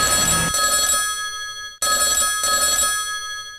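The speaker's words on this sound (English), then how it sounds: "Suddenly, her phone rang." Telephone rings out in two loud, bright electronic bursts separated by a short gap, with no talking over it.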